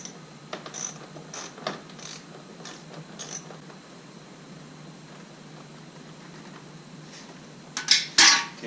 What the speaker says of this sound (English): I'm just going to use the ratchet.